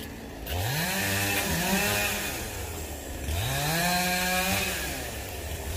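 A chainsaw cuts through a phoenix tree outdoors, its engine rising and falling in two long loud revving passes with whining harmonics, close and alone without talk.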